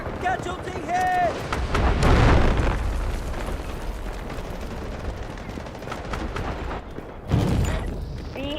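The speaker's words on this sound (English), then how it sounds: "Launching grenade." Loud battle din from the video game Delta Force as a grenade is launched and explodes, with booming blasts, gunfire bursts and rumbling, under game voices and chatter.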